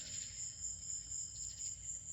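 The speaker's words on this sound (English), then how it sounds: "I live out here with the crickets and the cats playing" Crickets chirping outdoors, a continuous high, pulsing trill held steady throughout over a low, faint rumbling background, with no voices.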